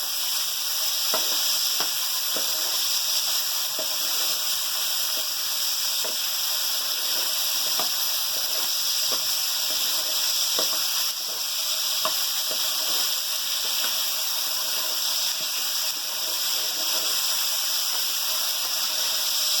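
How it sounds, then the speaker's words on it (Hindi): Stuffed arvi pieces fry in hot oil with salt, giving a steady dense sizzle and hiss with occasional light taps and scrapes, continuous and close throughout. "एक चम्मच नमक के साथ फ्राई करूँगा"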